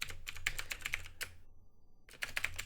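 Keystrokes on a computer keyboard while typing HTML code, arriving in quick irregular bursts of clicks with a short pause in the middle, close and clear with no talking.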